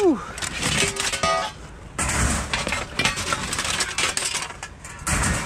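A bag full of watches tossed into the back of a truck, giving a metallic jingling clatter like coins and cutlery, with several short rattling impacts and a voice nearby.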